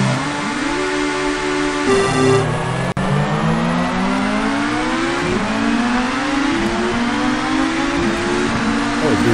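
Touring cars on the grid at the start of a TOCA 2 sprint race, with engines revving loudly, one sharp rise and drop in pitch, then a steady climbing roar as the pack pulls away, layered engine notes throughout.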